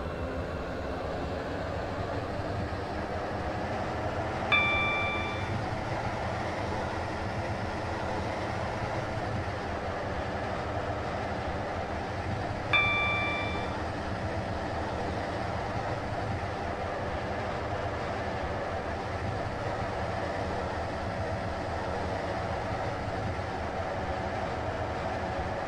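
A passenger train in the Roblox game Stepford County Railway runs steadily with a constant rolling rumble and faint clickety-clack, and two short electronic chime tones sound partway through; no one speaks.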